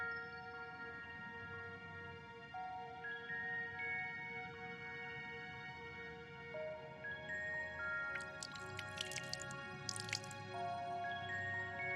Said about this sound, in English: As Runar lightly sprays you with water, your skin begins to tingle.